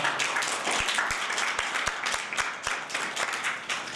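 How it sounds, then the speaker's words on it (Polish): Audience applauding at a Women's Day concert, a dense wash of clapping with a few sharp, distinct claps standing out near the front, steady and fairly loud for the whole stretch. "dziękuję wielkie brawa"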